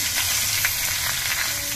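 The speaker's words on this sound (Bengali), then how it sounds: "কালো জিরেগুলো কয়েক সেকেন্ড ভাজা হয়ে যাওয়ার পরই এর মধ্যে আমি আলুগুলো দিয়ে দিচ্ছি।" Potatoes frying in hot oil with black cumin seeds: a loud, continuous close sizzle with crackling pops and occasional stirring, no talk.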